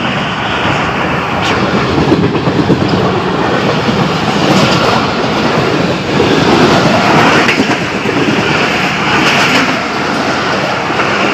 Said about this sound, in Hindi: ये ट्रेन गुजर गई, दूसरी साइड से ट्रेन आ रही है